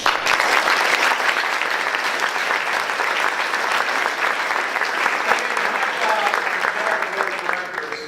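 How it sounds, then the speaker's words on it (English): A luncheon crowd at a chamber of commerce event breaks into loud, sustained applause, dense clapping holding steady throughout. "So I think we owe all of them a great round of applause."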